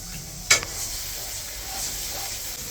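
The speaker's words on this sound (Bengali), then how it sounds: "কষানোর জন্য জল দেবো" Water poured onto a spice masala frying in oil with turmeric gives a sharp burst of sizzle, then settles into a softer steady bubbling hiss in the pan.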